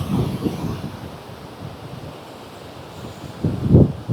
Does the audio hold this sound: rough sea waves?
yes